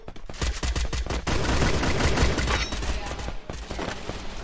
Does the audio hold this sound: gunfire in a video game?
yes